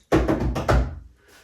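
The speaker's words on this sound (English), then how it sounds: "If you tap your table" Hands tapping on a tabletop in a loose rhythm, several close, dull knocks in quick succession with a short gap before a final louder tap, then fading to quiet.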